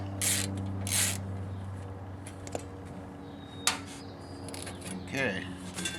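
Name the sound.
ratchet wrench being used on a Champion generator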